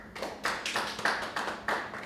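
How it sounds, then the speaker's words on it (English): Sparse audience clapping for a presenter: roughly half a dozen distinct hand claps spaced irregularly, fairly close and moderately loud, with no voices. "We give a round of applause for the presenter."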